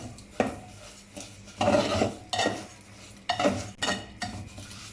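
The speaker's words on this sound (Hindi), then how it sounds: "अब इसमें चीनी डालेंगे, अच्छे तरीके से मिक्स कर लेंगे।" A spoon scrapes and stirs sugar through roasted semolina in a pan for halwa, giving repeated close, gritty strokes in an uneven rhythm with no talking.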